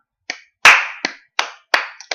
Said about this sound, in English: All the slow claps go to you